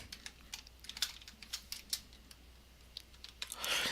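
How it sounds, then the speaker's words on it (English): Computer keyboard typing up close, an irregular run of quiet sharp key clicks over faint room hiss, ending in a brief louder rustle. "I'm going to type sub video 7"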